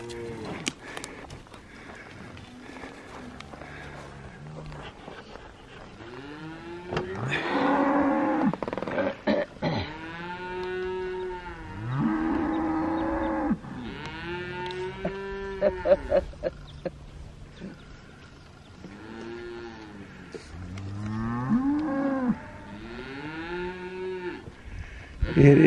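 Cattle moo repeatedly around a morning campsite at Vedauwoo in Wyoming, long drawn-out lows arriving one after another, some close and loud, others farther off, with no talk over them.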